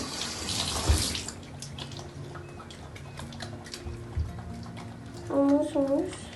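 Tap water runs to wet a small solid shampoo bar, a soft steady splashing stream at moderate distance, briefly joined near the end by a voice.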